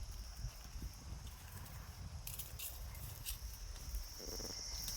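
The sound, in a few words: goats walking, hooves on ground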